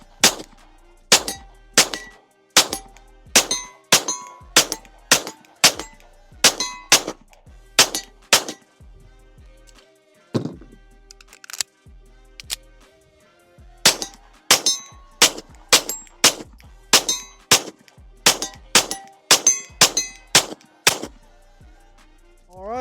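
Rapid pistol shots from a Girsan MC 14T ring off steel targets in fast strings, each crack followed by a metallic clang, with a short pause midway before another quick run; loud and close, no talk.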